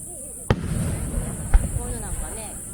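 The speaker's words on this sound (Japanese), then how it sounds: "色がね、おしゃれな花火っていうか、" Fireworks burst at the Mino city summer fireworks festival: two sharp booms about a second apart, loud and close, over steady crowd murmur with people talking nearby.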